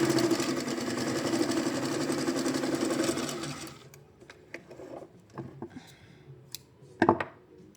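A Singer 242 sewing machine runs a zigzag stitch in a steady, rapid mechanical whir for several seconds, then stops. Faint clicks and handling knocks follow in the quiet.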